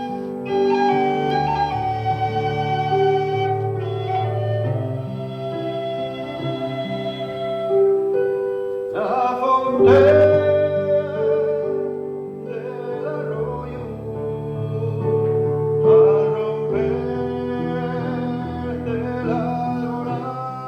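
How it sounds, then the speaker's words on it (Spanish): A sung lullaby set to music from a book's text, heard as a continuous melodic vocal line over sustained instrumental accompaniment, fairly loud and steady throughout with no talk. "le pusimos música a esa nana"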